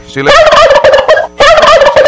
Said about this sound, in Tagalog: Ang bagong miyembro ng farm ay pabo ho.